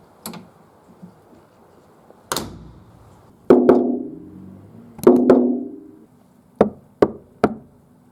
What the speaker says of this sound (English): especially when you knock onto the sheet metal, then you can't hear it echoing that much anymore